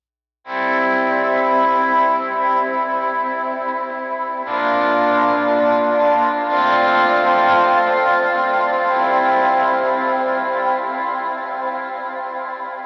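Lead electric guitar plays a worship-song verse through a full effects chain. Sustained, shimmering chords ring continuously for about twelve seconds with no talking, and a new chord swells in partway through.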